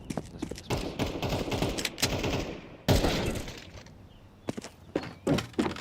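Gunfire in Counter-Strike during a Vitality vs G2 BLAST Premier grand final, close loud sharp shot bursts in rapid irregular volleys with brief pauses and a few isolated shots.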